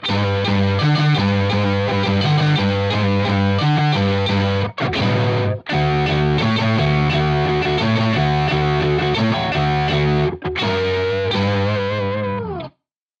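Distorted electric guitar through a TC Electronic Brainwaves pitch shifter, playing a dense, continuous riff of thick harmonized notes with two brief breaks, loud and up close.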